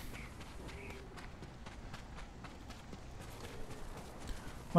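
A horse's hooves clip-clop at a steady walking pace in the video game Ghost of Tsushima, faint and distant under a low background wash.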